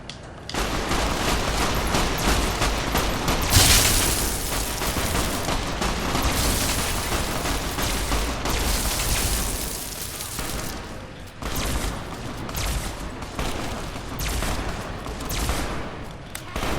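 Gunfire in Fallout New Vegas, continuous dense shooting and crackling blasts that keep a loud, steady roar with only brief dips throughout.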